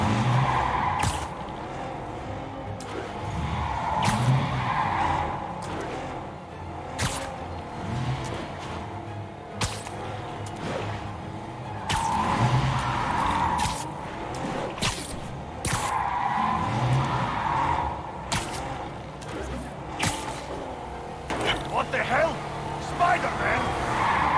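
Car chase in Marvel's Spider-Man Remastered, with engine roar and repeated sharp tire skids and screeches recurring every few seconds over busy game sound effects and voices.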